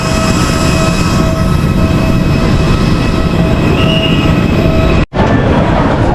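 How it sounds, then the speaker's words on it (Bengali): An airport baggage conveyor belt running at Langkawi airport, a loud, steady mechanical rumble with thin squealing tones that cuts out for a moment near the end. "সেই ফ্লাইটের জিনিসপত্র এখন কনভেয়ার বেল্টে আসছে, 2 নম্বর কনভেয়ার বেল্টে"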